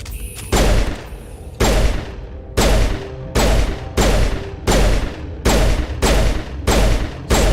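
Stiletto pistol firing in Mass Effect 1 Legendary Edition: a loud, evenly spaced string of about nine sharp shots, each with a booming tail, at a slow steady rate.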